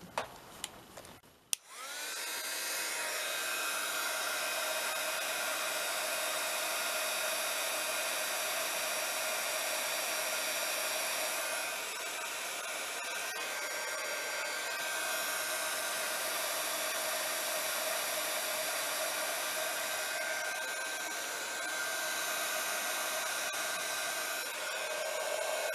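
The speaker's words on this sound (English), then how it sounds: "then we will emboss. I'm going to emboss all 3 of those." A heat embossing tool switches on with a click and blows hot air continuously at close range, a steady loud whooshing hiss for over twenty seconds with slight dips in level.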